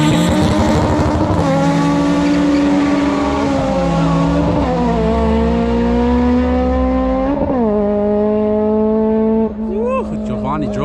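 A car at a golden-era car meet revs and accelerates hard, its engine note climbing and dropping through several gear shifts, loud and close, with a falling pitch at the end as it pulls away.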